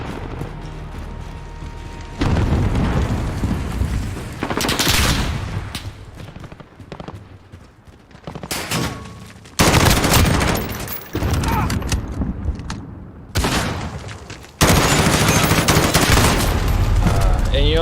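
Rapid automatic gunfire from a video game, loud and close, comes in repeated long bursts separated by short lulls, with dense crackling shots layered over game effects and occasional booms.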